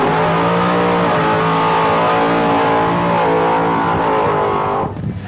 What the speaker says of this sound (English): The burnouts from both small block powered cars.